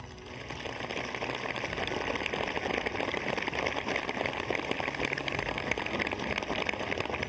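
Steady rain falls at Dal Lake in Srinagar during an outdoor morning event, a soft, even hiss of drops that continues without a break and sounds fairly distant.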